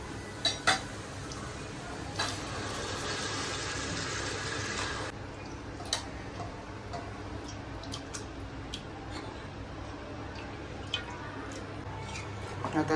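A spoon stirs vajadi (tripe) with dhania powder and garam masala in a home kitchen pot. Soft scraping and light metallic clinks repeat irregularly over a low, steady background.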